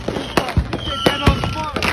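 Fourth of July fireworks and firecrackers go off in a sharp, irregular series of loud bangs and crackles, close by, with people talking and shouting over them.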